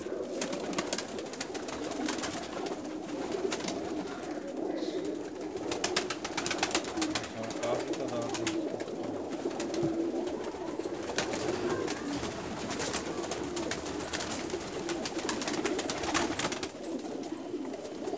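Breeder pigeons coo steadily on a rooftop, low rolling calls repeating close by over light outdoor ambience, with no talking.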